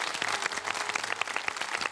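Studio audience applause for children on a Ramadan iftar TV kids' segment: brisk, dense clapping from a crowd, steady and moderately loud throughout the short span, with no clear speech.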